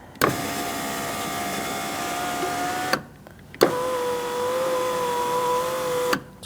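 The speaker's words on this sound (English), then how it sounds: "We're just going to check to make sure our regulator and motor is working correctly and the window is in line." Power window regulator motor in a 2008-2014 Mercedes-Benz C300 front door runs the window through two loud, steady whirring strokes of about three seconds each, separated by a brief pause.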